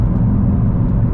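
Nissan GTR engine droning loud and close from inside the car, a steady low rumble as the driver downshifts, with no speech over it.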